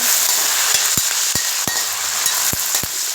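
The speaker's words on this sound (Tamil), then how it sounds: "ஒரு பதினஞ்சு பல்லு அளவுக்கு பூண்டு ரெண்டு கைப்பிடி அளவுக்கு சின்ன வெங்காயம் போட்டு இதையும் நல்லா வதக்குங்க" Garlic cloves and a couple of handfuls of small onions sauté in a pan for garlic curry, a loud close sizzle punctuated by sharp, regular spatula knocks against the pan.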